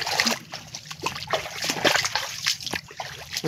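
Irrigation water splashes and trickles steadily into a papaya field, a close, continuous sloshing flow with small bursts of spatter and no voices.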